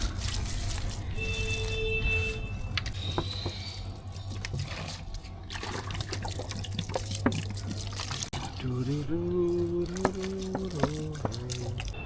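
Water is poured onto garden plants, a soft trickling splash beneath a low steady hum, with a person talking toward the end.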